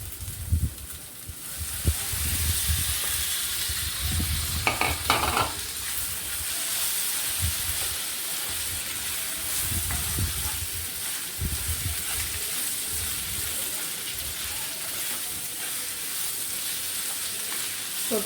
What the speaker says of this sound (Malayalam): ഇനി ഞാൻ ഇതിലേക്ക് വഴറ്റി വെച്ച വെജിറ്റബിൾസ് ചേർക്കുകയാണ്.